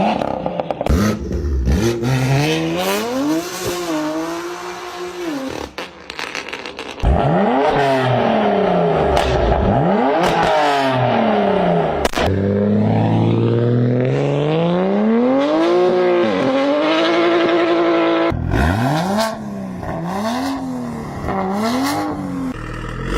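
A Toyota Supra with a single-turbo engine and single exhaust revs hard through repeated rising and falling pulls, loud and close, with brief pauses between accelerations.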